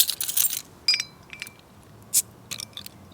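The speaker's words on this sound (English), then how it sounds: "Where's my keys? Here they are." Keys jangling and clinking at a fishing lake, with a bright burst of metallic rattling at the start followed by scattered sharper chinks and taps, close and fairly loud.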